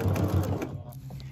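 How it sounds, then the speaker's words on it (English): Sewing machine stitching through a single layer of fabric, a short close run of rapid mechanical whirring that slows and stops within about a second. "So I'll pull those other layers out of the way and only sew through a single layer."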